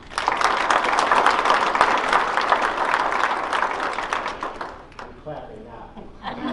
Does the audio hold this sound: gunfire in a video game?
no